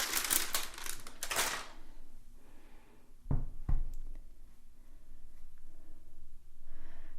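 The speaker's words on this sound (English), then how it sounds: "I'm going to cut these from the side so that we don't drag glitter through the bars as we slice them" A knife slices through homemade glitter-topped soap into bars, giving soft crunchy scraping and crumbly cuts, with a pair of sharper knocks from the blade hitting the board in the middle.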